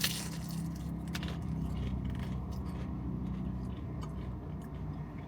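Someone bites and chews crispy fried cheese wontons from a Chinese takeout spot, with close, soft crunching and chewing sounds over a steady low background hum.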